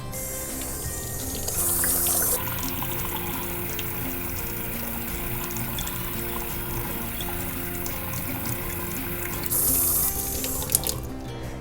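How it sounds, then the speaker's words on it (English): A sink tap runs steadily while a marbled pottery pot coated in shaving cream is washed off, the water hissing continuously with brief louder splashes. "now we're going to wash off the marbled pot"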